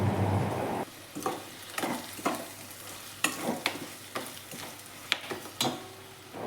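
Okra pieces frying in a pan for a Telugu okra fry, a soft sizzle under repeated scraping strokes of a spoon stirring, each stir sharp and close, about ten strokes in an irregular rhythm.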